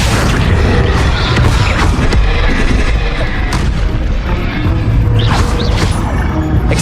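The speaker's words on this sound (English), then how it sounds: "Accio!" An Accio spell cast in the video game Hogwarts Legacy amid heavy combat, with booming blasts, crashes and shot-like bangs piling up continuously and loudly, and rising whooshes near the end.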